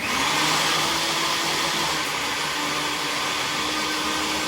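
A blender runs steadily and loudly for several seconds, a continuous whirring motor blending ingredients with the lid on, with no pauses in its drone.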